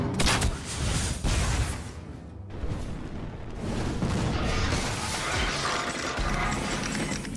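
Gunfire in a fantasy action video game, rapid bursts and impacts with clattering mechanical effects, loud and continuous across the clip.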